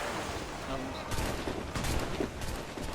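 Cannon fire during a naval battle in Assassin's Creed IV Black Flag: heavy booming blasts burst out in quick succession over a dense, continuous rumble of battle noise.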